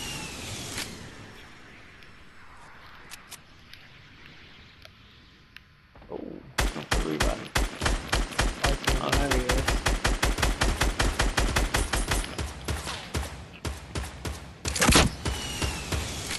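Sustained automatic weapon fire in a battle-royale style video game, aimed at a wall, starts abruptly after a quieter stretch and continues as rapid, loud bursts of closely spaced shots to the end.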